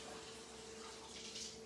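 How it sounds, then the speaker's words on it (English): Hot water running from a kitchen tap over a plate, a soft, steady, faint splashing stream with no voices. "Now it said that we should run it under hot water."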